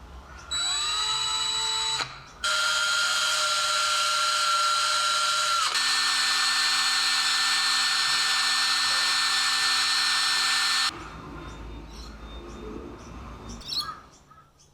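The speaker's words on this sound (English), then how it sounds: "so I finished up with my cordless drill" A cordless drill running in bursts while restoring a brass marking gauge, a loud whining motor that starts, stops, then runs long with a pitch shift before winding down to handling noises.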